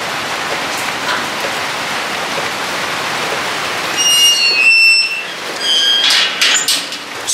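Steady rain falls outdoors as a constant broadband hiss, joined partway through by faint high tonal chirps or squeaks.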